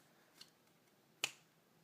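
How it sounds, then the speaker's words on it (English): A single sharp finger snap during a card trick, close and crisp in a quiet room, preceded by a softer faint click. "But if I snap my fingers"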